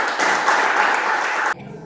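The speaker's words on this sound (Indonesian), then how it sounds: "tepuk tangan buat Anda semua" A room of participants at a teacher training session claps together in a dense burst that cuts off abruptly, leaving quiet room tone.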